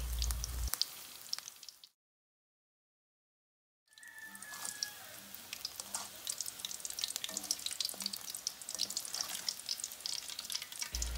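Cheesy banana blossom fries frying one at a time in hot oil, a steady close crackling sizzle with faint stirring and scraping, broken by a short silent gap, with no talk.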